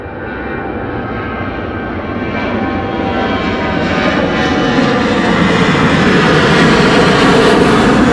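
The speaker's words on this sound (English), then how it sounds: "at the dead of the morning you can hear the engines revving as they're coming down the runway" Aircraft engines roar and build steadily on the runway during an early-morning departure at East Midlands Airport, a loud continuous drone growing closer and heavier.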